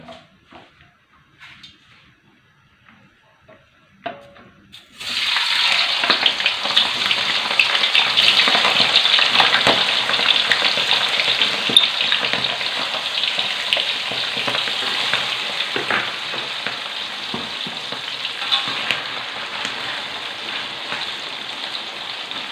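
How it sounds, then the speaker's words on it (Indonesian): Eggs frying in hot oil in a pan: a loud, steady, dense crackling sizzle that begins abruptly after a few quiet seconds of faint handling and continues unbroken to the end, with small pops throughout. "sekarang saya nak masukkan dalam minyak sahabatku ya"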